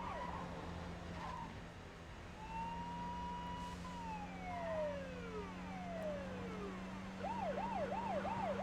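Police sirens wail and sweep through the 24: The Game video game, several overlapping rising and falling tones over a steady engine hum, ending in a fast repeating yelp.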